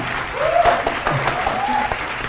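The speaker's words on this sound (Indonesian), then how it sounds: "sekali lagi tepuk tangan untuk kedua tim" Audience applause at a televised Indonesian quiz show, clapping for both competing teams, a steady wash of hands lasting a couple of seconds with a faint voice briefly rising through it.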